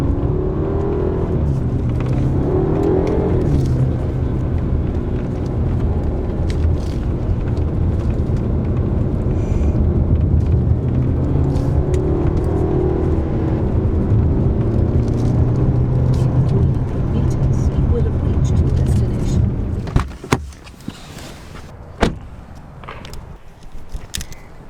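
A BMW F30 320i drives along mountain roads, its engine droning steadily from inside the cabin with rising and falling revs through gear changes, then the engine note drops away toward the end, leaving a few faint knocks and clicks.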